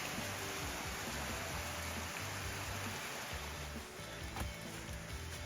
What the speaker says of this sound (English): It's been a long time since I've really heard a lot of water rushing like that.